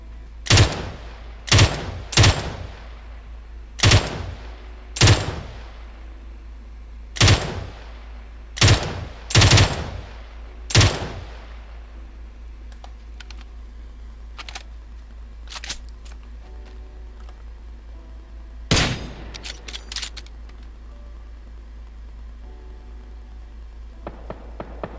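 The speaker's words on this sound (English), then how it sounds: "Two people shooting at me." Gunfire rings out in the video game PUBG Battlegrounds: a burst of sharp, loud single shots in quick irregular succession, then a few quieter, more distant cracks spaced apart over a low steady background hum.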